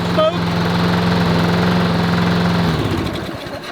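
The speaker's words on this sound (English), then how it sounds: "Sounds like a lawnmower." A small engine that has just been repaired runs steadily and loud like a lawnmower, holding an even idle for almost three seconds before its note drops away at the end.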